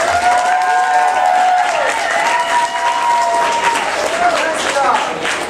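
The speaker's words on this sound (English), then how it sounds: "Let's give Sherlock a big round of applause." A crowd at a Pokémon game show at a convention gives a contestant a big round of applause, loud and sustained, with cheering and a sustained tonal sound running through it.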